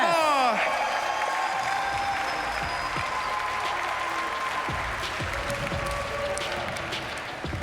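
A crowd at a skateboarding street jam event breaks into sustained loud applause mixed with cheers and whoops, fading slightly toward the end, with a voice over the noise at the start.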